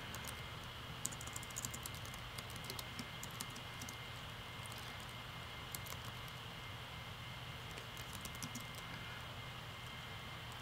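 Quiet computer keyboard being typed on, a password entered as a steady run of soft, fast key clicks over a faint hum from the machine, with no voices.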